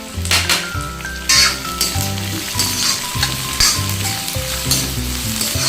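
Slit green chillies dropped into hot oil with onion and ajwain, loud crackling sizzle close by with spoon stirring and pan clinks in uneven bursts.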